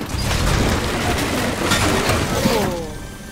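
A loud, broad burst in the Fortnite video game: a sustained crashing, shattering blast lasting a few seconds, then fading out with some tonal debris sounds at the tail.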